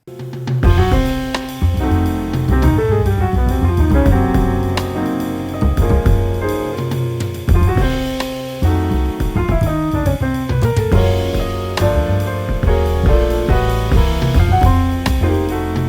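A jazzy trio-style instrumental plays with steady full chords, bass and percussive hits, sustained throughout at a consistent, fairly loud level with no voices.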